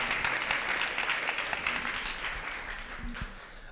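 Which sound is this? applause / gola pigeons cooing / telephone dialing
applause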